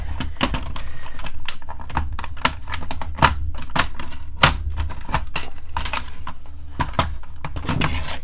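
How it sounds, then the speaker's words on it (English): Plastic shell of a Nerf Stryfe blaster being pried apart after its screws are removed, giving a dense run of sharp clicks, snaps and creaks close up throughout, with no talking. "Let's see if we can get it pried open here."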